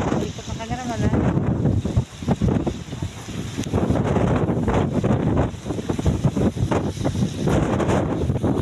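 Strong, gusty wind on an island roars and buffets the microphone continuously, with a faint wash of surf and waves beneath the rushing noise.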